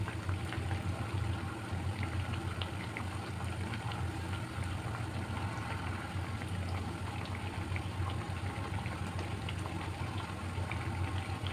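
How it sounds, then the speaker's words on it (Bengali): Flour-and-semolina snacks frying in hot oil, a steady, even sizzle and bubbling that holds at a moderate level for the whole stretch, with no voices. "চুলার আঁচটা কমিয়ে ভাজতে হবে।"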